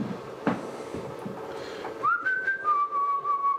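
A person whistles a few clear sustained notes close by, following some low murmuring and background room sounds during a live home beer-brewing session.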